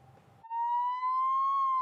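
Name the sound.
ambulance sirens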